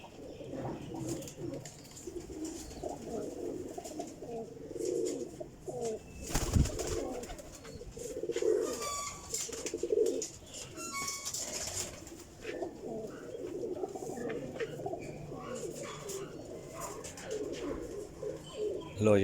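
Pigeons kept by a Pakistani pigeon seller coo in soft, repeated throaty calls over almost twenty seconds, close by, mixed with a few chirps, a brief flutter and occasional nearby talking.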